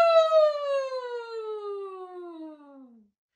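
A single voice in a choir warm-up imitates a siren, gliding smoothly downward in pitch from high to low over a few seconds before stopping.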